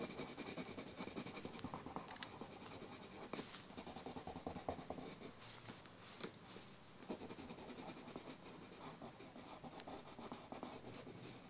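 A coloured pencil scratches steadily across paper in a broad swatch, a close, quiet scribbling texture with continuous back-and-forth strokes under faint background hum.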